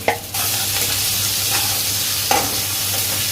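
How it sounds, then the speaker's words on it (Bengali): Ground spices with garlic paste, onion paste, coriander, salt and turmeric frying in a pan for koi fish bhuna, a steady loud sizzle broken by a few scraping stirs. "মশলাগুলো দিয়ে আর একটু ভালোভাবে কষিয়ে নেব"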